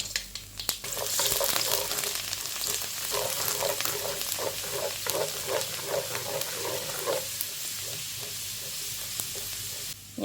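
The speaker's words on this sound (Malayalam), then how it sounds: "ആദ്യം തന്നെ കുറച്ച് കടുകിട്ട് പൊട്ടിക്കാം." Mustard seeds and urad dal splutter in sunflower oil, a close crackling sizzle with a rapid run of popping bursts in the middle that eases into quieter frying hiss, no speech.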